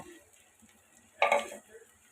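Chickpeas drop into a pan of frying spice mix. A short loud sizzling hiss and clatter rises briefly and then fades back to quiet frying, with no talking.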